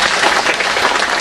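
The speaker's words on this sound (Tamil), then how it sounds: "அவருக்கு கைதட்டு கொடுங்க" Dense audience applause at a community seminar in Malacca, a continuous loud wash of many hands clapping with no voices on top.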